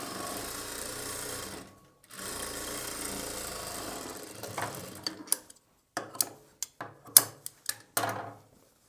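A sewing machine stitches a churidar bottom, running in steady close whirring bursts at first, then breaking into short stop-start runs with pauses between them; no talking.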